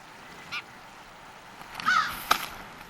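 A few short, harsh bird calls ring out over quiet outdoor background, one brief call early and a cluster of louder caws near the end.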